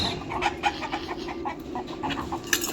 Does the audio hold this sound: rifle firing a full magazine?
no